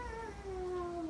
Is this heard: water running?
no